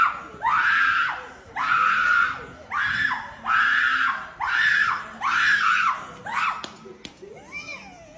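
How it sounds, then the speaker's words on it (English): A girl screams over and over, six or seven long, shrill, wavering screams in a steady rhythm, loud and close, ending in a few shorter broken cries. "Screams, causes a scene."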